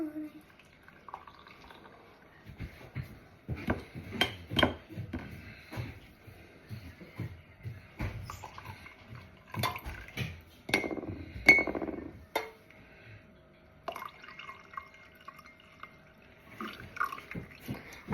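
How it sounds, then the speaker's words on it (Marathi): Tea is poured from a pan in a home kitchen, giving soft trickles, drips and clinks of metal and glass in uneven bursts, with a little speech between. "म्हणून आता आपण चहा ओतायचा"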